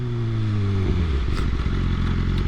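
A 1000cc motorcycle is ridden on a cold day, its engine droning loud and close, with a falling tone shifting into a rough, rumbling running note that continues throughout.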